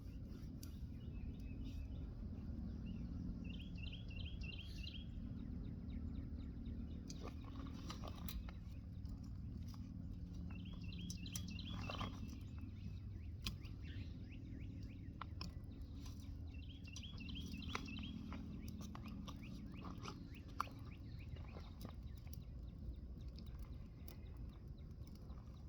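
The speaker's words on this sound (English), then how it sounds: "These birds chirp." Small birds chirp in short repeated bursts at a distance, faint over a steady low outdoor rumble near a morning campfire, with scattered crackles.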